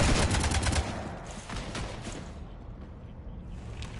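Rapid gunfire rattles continuously against a ship in a video game, a loud, dense fusillade that is strongest at the start and then thins into a steady rumbling roar.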